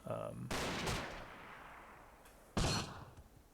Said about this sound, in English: Going for the double grenade.